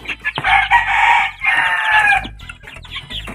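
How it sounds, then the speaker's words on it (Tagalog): A brood of eight one-month-old chicks making loud, close, excited high-pitched calls in a few dense bursts, with brief quieter gaps between them. "Kakagulo yung sisiw ko."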